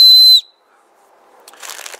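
A whistle built into an EDC zipper pull gives one short, shrill, steady blast that stops abruptly, followed by quiet handling and rustling noises nearby.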